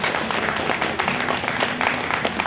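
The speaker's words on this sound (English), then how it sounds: "Can we get a round of applause for this?" A convention audience claps for Mega Man and Mega Man X cosplayers in a busy, close burst of applause. Sharp individual claps stand out within the dense patter.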